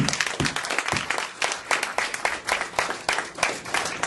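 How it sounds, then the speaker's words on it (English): Lecture audience breaks into sustained applause, a dense wash of many hands clapping with rhythmic swells, fairly loud and continuous throughout, with no talk over it. "give yourselves a round of applause for coming back"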